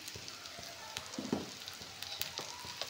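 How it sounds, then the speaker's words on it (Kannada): Turmeric and coriander powder frying with free-range country chicken in a pan for a village-style sambar, a steady crackling sizzle with soft stirring clatters, close and alone. "ಅರಿಶಿನ ಹಾಕ್ಕೊಂಡು ಸ್ವಲ್ಪ ಚೆನ್ನಾಗಿ ಫ್ರೈ ಮಾಡ್ಕೋಬೇಕು"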